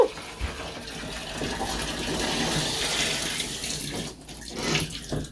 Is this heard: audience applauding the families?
no